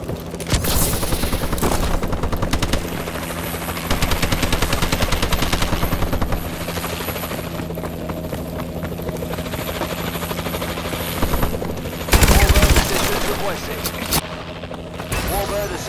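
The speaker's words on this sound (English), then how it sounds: "Friendly warbird in the air." Warbird gunship in Call of Duty: Advanced Warfare hovering with a steady rotor-like drone while bursts of rapid gunfire rattle over it, a heavy boom near the end, loud and continuous with game voice callouts mixed in.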